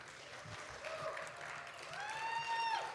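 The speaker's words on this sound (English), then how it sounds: "everyone give a round of applause for Mr. Jimmy Wooten" An audience at a Louisiana opry show applauds a performer, a soft, distant wash of clapping with a faint ringing tone rising near the end.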